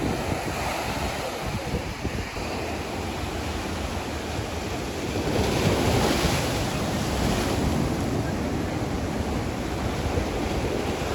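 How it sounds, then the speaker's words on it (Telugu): Ocean waves surge and crash continuously against rocks nearby on the Puducherry coast, a broad roaring wash mixed with wind buffeting, swelling louder around the middle. "ఎగసి పడుతున్న అలలు."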